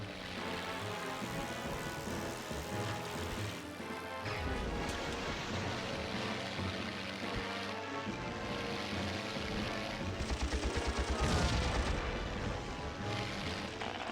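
Dense, continuous game mix from Heroes of the Pacific on PS2, a Wake Island air battle: rapid aircraft machine-gun fire under roaring engines and explosions, with a louder burst of gunfire near the end.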